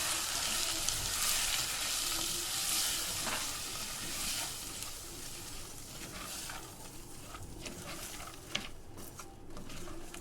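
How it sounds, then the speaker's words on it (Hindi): Soaked masoor dal frying in a pan, a soft steady sizzle and hiss with occasional scraping and light patter toward the end, fairly quiet and close, no voices. "अब यहाँ मैं शामिल करूंगी दाल, जो मैंने पहले से भिगो के रख दी थी। इसे हम भूनेंगे अच्छे तरीके से।"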